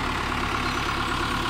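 A New Holland TD 95 tractor of 98 horsepower, fitted with front weight plates, idles steadily with a constant low rumbling drone. No one is talking.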